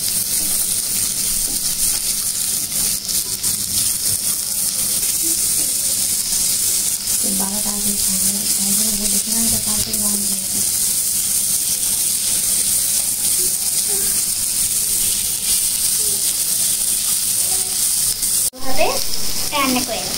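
Chopped carrots stir-fry in a pan for noodles, with a constant loud sizzle and occasional scraping of the spatula, plus a brief knock near the end.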